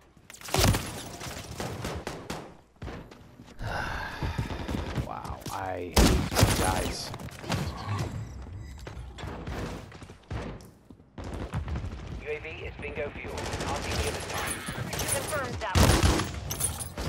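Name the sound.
gunfire in Modern Warfare III video game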